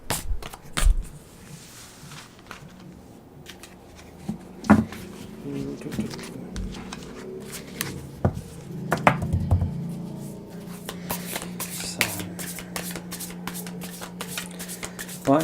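Tarot cards shuffled by hand at a table during a relationship reading, a run of soft riffling and tapping bursts with occasional sharper card knocks, close, while a voice talks intermittently.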